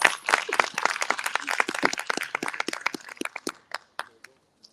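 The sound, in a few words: audience applause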